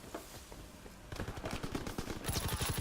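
Sustained automatic gunfire in Call of Duty WWII on PS4 breaks out after a quieter opening, rapid close shots hammering on in a dense, loud rattle.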